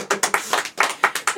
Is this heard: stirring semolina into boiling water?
no